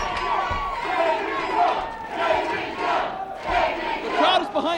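Wrestling crowd at a Hardcore Hell 2002 title match roars and chants continuously, a dense loud mass of voices swelling and dipping in waves throughout, with no individual speech standing out.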